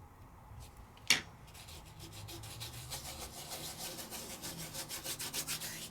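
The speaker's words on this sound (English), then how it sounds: "Give it a nice little burnish just to make sure you've got every place all filled in." Burnishing a heat-embossed Sizzix craft die-cut: a sharp tap near the start, then steady rubbing strokes that grow into a quick, rhythmic scraping, close and alone.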